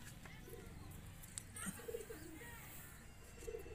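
Giribaz pigeons from Murshidabad coo softly in short, faint bursts against a quiet, murmuring background.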